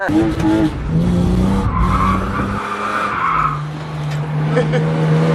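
A drift car with a welded differential slides at a drift night, tires skidding and squealing loudly over a revving engine for a few seconds while people talk nearby.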